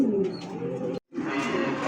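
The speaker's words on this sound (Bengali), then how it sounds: "আরও এক জোড়া বোম্বাই কবুতরের বাচ্চা আছে" Bombay pigeons coo in soft, low, throaty bursts close by, a short murmuring call broken by a brief pause before resuming.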